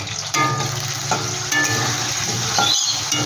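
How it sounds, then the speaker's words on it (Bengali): Potatoes fry lightly in oil in a pan, a steady close crackling sizzle running throughout with a few brief scraping stirs, no voices. "আমি তেলটা দিয়ে আমি এই আলুগুলো একটু ভেজে নিচ্ছি হালকা করে"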